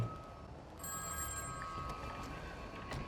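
A phone rings in GTA V, a thin repeating electronic tone over a dense, noisy game background with no speech.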